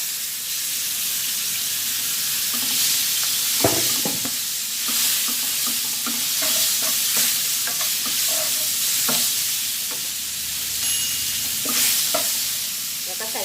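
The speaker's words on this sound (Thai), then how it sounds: "ผัดให้หอมเลยค่ะ แล้วก็จะใส่หมึกลงไปก่อนนะคะ" Curry paste stir-fried in a hot pan for crab curry, with steady sizzling, scraping stirs and a few sharp clatters as squid goes in, loud and continuous throughout.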